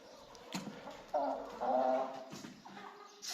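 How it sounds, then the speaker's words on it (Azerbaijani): Farm chickens cluck in short bursts close by in a barn setting, their calls rising and falling over a few seconds with light background noise and no talking. "Çiftliyin toyuqları."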